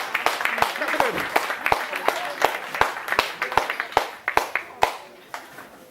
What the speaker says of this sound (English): Come on, everybody. Come on, clap. Clap it in.